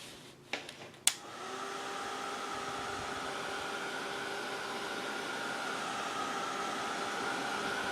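After a couple of sharp clicks, a handheld heat tool switches on and blows a steady whirring, hissing stream of hot air to dry shimmer spray on a paper journal tag, continuous and close with no talk.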